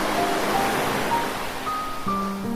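Pacific Ocean waves wash in a steady broad surf roar, moderately loud and continuous, with a faint tonal melody rising over it toward the end.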